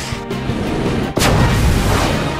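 A sharp booming blast erupts midway through a dense, roaring soccer-game soundscape in Inazuma Eleven Strikers as a fire tornado shot is struck, followed by a sustained rumbling whoosh.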